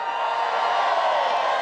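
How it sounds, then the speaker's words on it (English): A crowd at a life-size Mouse Trap pumpkin-smashing event cheers and whoops in a dense, continuous roar, fairly loud and sustained throughout. "You're cheering wildly now."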